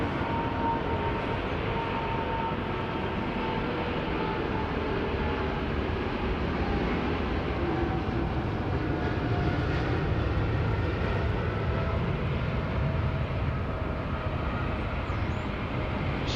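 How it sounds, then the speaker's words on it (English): Singapore airliner on a long takeoff roll at Sydney Airport, a steady broadband jet roar holding at constant loudness throughout with no break, no voices. "This will be a long takeoff roll, folks."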